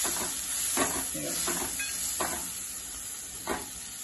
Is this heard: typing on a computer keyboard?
no